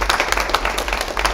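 A television studio audience applauds at a broadcast launch event, a lively, moderately loud patter of many hands clapping for the whole short stretch.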